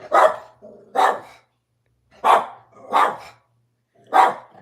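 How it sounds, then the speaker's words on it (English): A dog barks five times in quick pairs, loud and close, with short silences between the barks. "You just barking for nothing."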